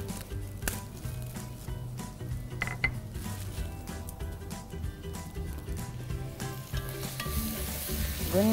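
Potatoes, meat and eggs sizzle steadily as they are stirred and sautéed in a pan. Utensils clink and scrape against the pan throughout, close and continuous, with no voices.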